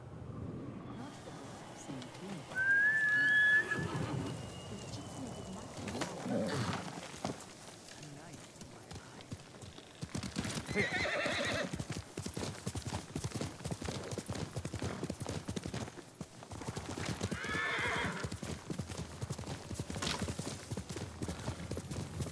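A horse gallops in Ghost of Tsushima with steady rhythmic hoof clip-clops and a brief whinny, running continuously beneath a person's talking.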